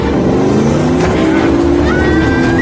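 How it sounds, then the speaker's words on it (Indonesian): A film car driven very fast roars at full throttle, the engine note climbing steadily, loud and continuous throughout, with a whine rising near the end. "Dia mengemudikan mobilnya sangat kencang."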